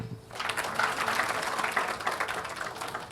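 An audience at a hospitality and culinary school ceremony in Guinea breaks into applause, a dense wash of clapping that swells after a brief voice and continues steadily.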